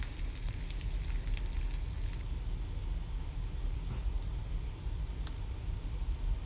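Chopped onions sautéing in hot oil with cloves and cumin for a cauliflower roast, giving a steady, dense sizzle and hiss that runs unbroken throughout with no talking.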